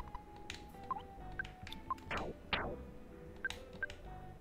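Telephone dialing tones in the video game Earthbound Halloween Hack, a string of short beeps pressed one after another over a quiet game hum, with a couple of brief swishing sounds midway.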